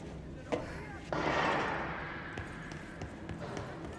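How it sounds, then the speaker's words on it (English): A single gunshot rings out in the video game Control, a sharp crack followed by a loud, lingering reverberant burst that fades over a couple of seconds, with smaller impacts and faint background sounds after. "I hear a gunshot."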